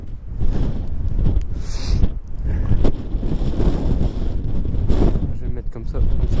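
Gusty wind buffeting the microphone at a Second World War blockhouse, with low rumbling roars that rise and fall continuously.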